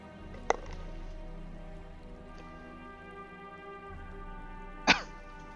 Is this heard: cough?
yes